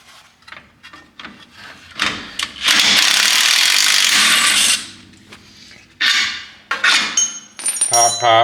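Metal clanks, a sustained whirring rattle of a power tool and scattered knocks come from work on a 1967 Bonneville as bolts are taken out, close and loud with brief pauses between bursts.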